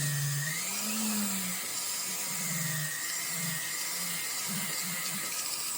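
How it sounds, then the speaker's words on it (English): A flex shaft rotary tool grinds out the clogged ribs of a part, its motor whining steadily with the pitch rising and falling as the bit presses into the workpiece, loud and continuous with no talk. "flex shaft and go in here and just get rid of the extra"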